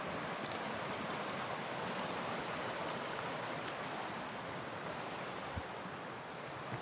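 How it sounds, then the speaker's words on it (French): A nearby river rushes in an unbroken, even wash of water noise, low and steady throughout with no voices. "La rivière à côté."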